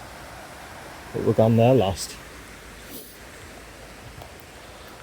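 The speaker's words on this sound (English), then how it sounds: "there's the waterfall" A woodland waterfall gives a steady, broad rushing hiss that runs through the whole stretch, with a voice speaking briefly over it near the start.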